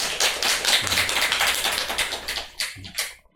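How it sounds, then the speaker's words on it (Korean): A church congregation bursts into applause, many hands clapping in a dense, crisp patter that fades out toward the end. "박수가 나와야 되겠죠?"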